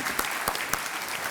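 Studio audience applause for the winner on the quiz show Kaun Banega Crorepati, a dense steady clapping from a crowd, loud and close, filling the brief moment.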